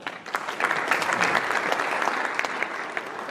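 An audience at a Fulshear Area Chamber of Commerce legislative preview event claps in a sustained round of applause, steady and full from start to finish, with a faint murmur of voices underneath.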